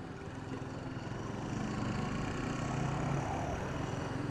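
Bajaj Pulsar P150 motorcycle engine pulling steadily in fourth gear while riding, a continuous mid-level drone with wind rumble, no voices.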